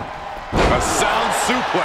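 A wrestler's body crashes down from a high angle exploder suplex in the WWE 2K22 wrestling video game, a loud sudden slam followed by crowd noise and a commentator talking.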